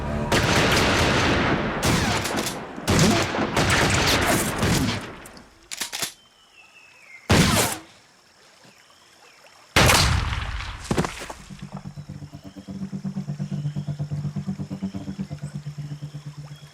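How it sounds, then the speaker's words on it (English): Gunfire during a sea patrol stand-off, several sharp loud bursts and single shots in quick clusters separated by quiet gaps, ending with a steady engine drone. "I'm hearing gunfire."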